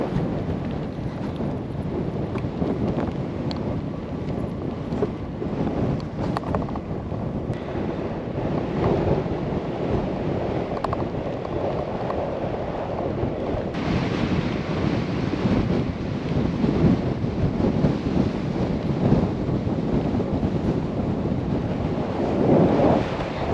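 A strong headwind buffets the microphone of a touring cyclist on open road, a constant loud roaring rumble with gusty surges, growing heavier toward the end.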